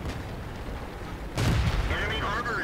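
Tank cannon shot detonating an enemy SU-152's ammo rack in World of Tanks, a sudden heavy boom that swells into a rumbling blast, followed by a brief warbling effect.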